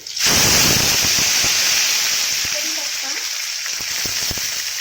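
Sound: garlic-ginger paste frying in hot oil

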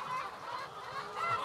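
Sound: chicken clucking in a laying nest

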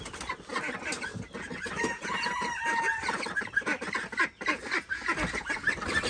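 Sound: farm chickens clucking

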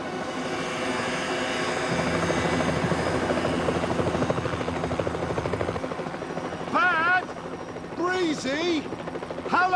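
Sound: helicopter hovering in a storm

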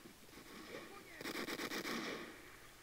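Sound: Mosin rifle gunfire in video game Vietcong Fist Alpha

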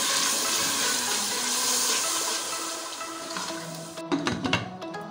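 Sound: half cup of water poured into egg curry

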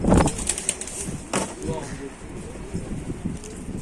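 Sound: tumbler and roller pigeons in coop

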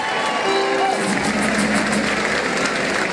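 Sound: audience applause at Tejano music festival

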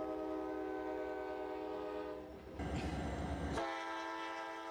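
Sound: Alaskan sightseeing train, gold rush era

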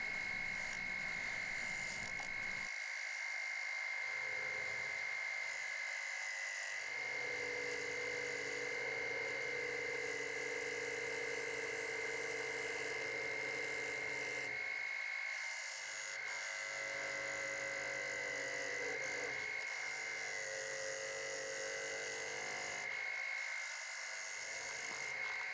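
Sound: wood being turned on a lathe, flattening spirograph teeth

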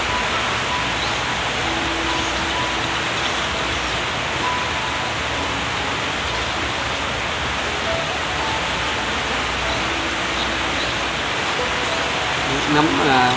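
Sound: heavy rain falling

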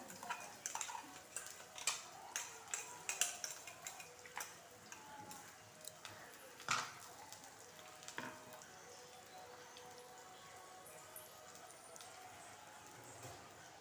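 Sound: frying ground masala paste in oil for eggplant curry

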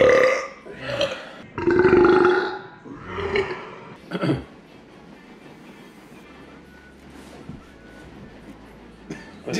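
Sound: burping during a burping contest

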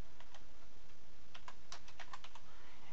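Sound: typing a command on a computer keyboard

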